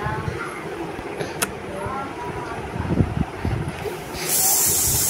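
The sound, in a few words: pressure cooker whistle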